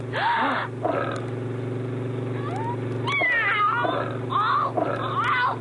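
A voice imitates a lion's roar in a French-dubbed cartoon, a long sustained growling rumble running throughout, broken by a few higher snarling bursts and short rising cries.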